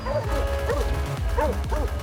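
Half Labrador, half Aspin dog barking on a beach in Panglao, Bohol, giving about four short bow-wow barks with yippy edges, fairly close and clear over steady surf and crowd background.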